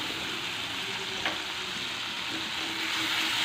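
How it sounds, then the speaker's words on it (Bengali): Onion and garlic frying in a pan, a steady close sizzle with a soft scrape of stirring partway through. "পেঁয়াজ রসুনটা একটু সামান্য কষে নিয়ে"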